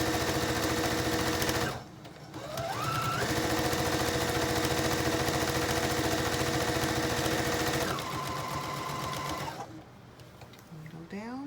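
A sewing machine stitches a fabric tray with a loud, steady close-up hum that slows and pauses twice as the needle stops at corners, then speeds up again.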